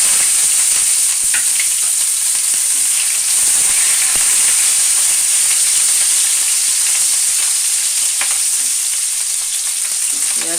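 Whole garam masala, bay leaf, cumin seeds and onion frying in hot oil, a loud, close, unbroken sizzle with a bright hiss and occasional small crackles.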